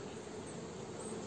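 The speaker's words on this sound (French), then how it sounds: "on voit très bien que les abeilles sont en activité" Honeybees active at a hive during a February beekeeping inspection among hazel trees, heard as a steady, dense buzzing hum with no pauses and no voices.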